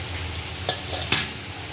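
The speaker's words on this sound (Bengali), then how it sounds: "এই মাছটাকে সেম একই রকমভাবে ভাজা করে নেব" Fish frying in a pan until reddish and crisp gives a steady, close sizzle, broken by a couple of brief stirring clinks.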